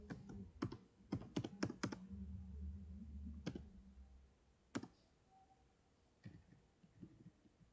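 Fingers type on a computer keyboard, a quick run of close, light key clicks at first, then a few scattered single taps with pauses in a quiet room.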